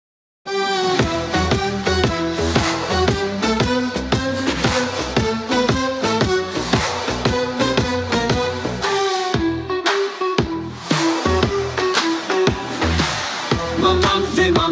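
AI-generated Suno song blending hurdy-gurdy drone and melody with EDM beats, steady pulsing rhythm and bright layered tones, loud and continuous throughout with no talking.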